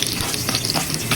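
Onion goes into garlic already frying in a pan of ginisang alamang, giving a steady loud sizzle with stirring clatter throughout, with no talk.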